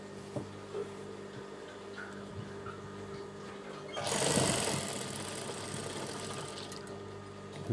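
An electric sewing machine stitching the lining of a churidar top hums quietly, then surges into a louder, faster whirring run partway through before easing back to a steady drone.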